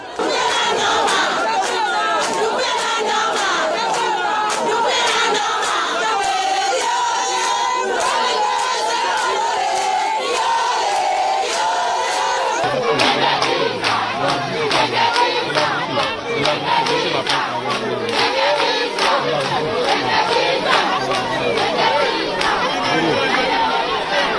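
A large crowd of islanders from the Îles de Los, off Conakry, gathers outdoors during a presidential sanitation campaign. Their dense cheering and shouting carries on steadily and loudly throughout, swelling into a denser roar partway through.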